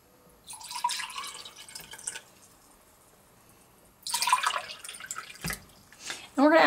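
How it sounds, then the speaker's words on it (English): Water pours from a tap into drinking glasses in two bursts of splashing and trickling, close and moderately loud, with a brief knock between them. "we're going to go ahead and fill our other glasses with some water"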